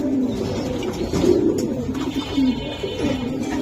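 Several pigeons coo in low, throaty rolls, overlapping and repeating close by, with faint rustling in the background.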